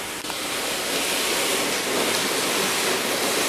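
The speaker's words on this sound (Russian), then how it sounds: "Водой моет свои окна. А, и крышу." Water sprays in a steady, broad hiss as a hose jet washes windows and a roof, continuous and close with no voices.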